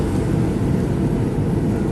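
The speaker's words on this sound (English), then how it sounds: "Air India Airbus landing at" Inside the cabin of an Air India Airbus airliner landing at Mangalore airport, a loud, steady roar of engine and airflow noise fills the whole stretch without variation.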